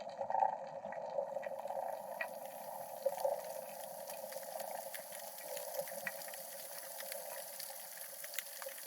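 Persistent nighttime chorus of fish making swim bladder sounds in the Gulf of California, a faint steady hum with scattered soft pulses and clicks recorded underwater, no voices.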